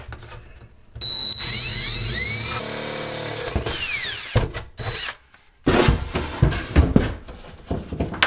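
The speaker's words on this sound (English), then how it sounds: "So I'm going to go ahead and drill that." A power drill whines up to speed and grinds through material in several loud, close bursts while drilling a hole for a cabinet install, its pitch rising and falling between brief stops.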